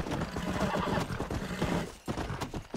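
A horse in Red Dead Redemption neighs loudly and whinnies up close, with hooves clip-clopping beneath and a brief pause before the call resumes, with no talking over it.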